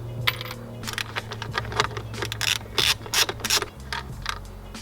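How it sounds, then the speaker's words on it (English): A ratchet with a 10mm socket removes a cover bolt on a Subaru. Quick bursts of clicking pawl action sound up close, with metallic rattles in between. "take off this cover right here. Just a 10mm socket."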